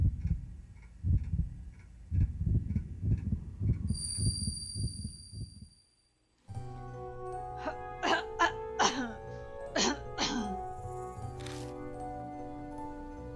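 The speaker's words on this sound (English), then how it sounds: "Your coughing sounds. They sound like they're from a person that's in pain." A voice coughs in strained, rough, pained bursts at first, then after a short silence a different scene brings sharp clicking and tonal video game sounds.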